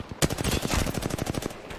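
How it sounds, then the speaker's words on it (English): Rapid automatic gunfire in the Apex Legends video game, a loud, close burst of evenly spaced shots rattling off for nearly two seconds after a sharp opening crack, with no talking. "Getting shot at."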